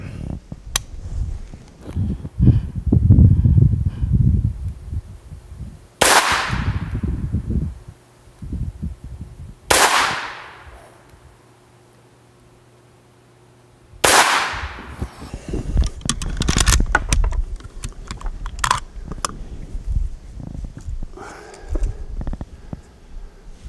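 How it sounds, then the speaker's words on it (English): Three sharp rifle shots from a Ruger Mini 30 or Mini 14 fired at a 50-yard target outdoors, spaced about four seconds apart, each loud crack trailing into a short decay, with background noise and handling between them. "Now I'm going to shoot a 3-shot group and see where we're at."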